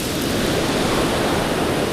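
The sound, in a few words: wind and waves on a storm beach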